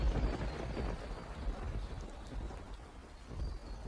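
Steady rain pours down with a low, rumbling undertone of thunder throughout, fairly even and continuous with no voices, in an animated cartoon.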